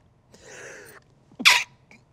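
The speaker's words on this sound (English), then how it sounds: "The first time I had to sneeze on camera." A single sneeze from a livestreamer during a live broadcast of the Firefall online game: a short breathy intake builds, then one sharp, loud burst close to the microphone, followed by a faint sniff.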